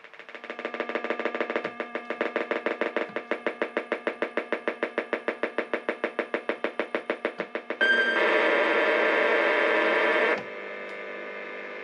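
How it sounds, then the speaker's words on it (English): A rebuilt Jen Synthetone 1000SX synthesizer makes distortion noises: a fast train of buzzy, pulsing tones that speeds up, then switches to a harsh, gritty sustained drone that drops back to a thinner hum, loud and close with no talking. "I can make it do some really cool distortion noises"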